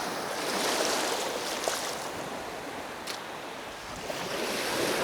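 Waves of the incoming tide washing up a beach at sunset, a continuous broad hiss of surf swelling and easing, with some wind buffeting the microphone and no voices.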